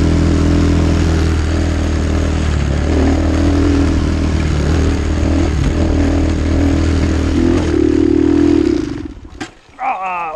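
A dirt bike's engine labours in fourth gear up a steep forest trail, a loud, continuous rumbling drone close by that strains for about nine seconds, then cuts out abruptly into brief rustling.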